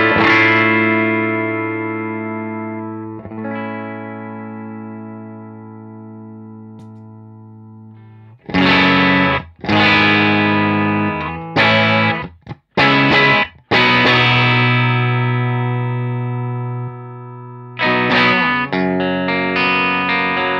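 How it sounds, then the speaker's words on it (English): Electric guitar through a Tubesteader Eggnog tweed overdrive pedal, cranked '50s tweed tone: a long sustained chord rings out, then loud strummed bursts with short gaps and ringing overdriven chords. "I'm just going to do some knob twiddling and show you the sounds this pedal is capable of"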